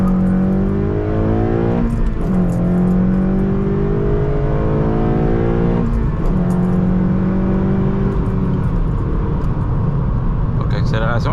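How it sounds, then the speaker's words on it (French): A 9th-generation Honda Civic Si accelerates hard, its engine note rising through the revs and dropping back at shifts, loud and close, with someone speaking over it. "Donc accélération qui est quand même relativement bien en fait."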